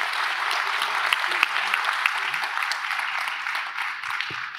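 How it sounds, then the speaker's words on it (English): Forum participants give the panelists a sustained round of applause after an economic and trade collaboration session in a conference hall, a steady dense clapping that tapers slightly toward the end. "asking the participants to give a big round of applause to the panelists"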